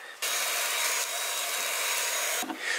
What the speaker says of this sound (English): So with that, I've vacuumed the seats.